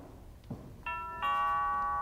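A two-tone doorbell chime sounds indoors, the second note ringing on clearly and steadily after a soft thump.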